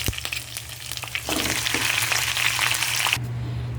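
Chicken hitting a hot pan, with a brief clatter and then a loud, dense, continuous sizzle close by, cut off abruptly near the end.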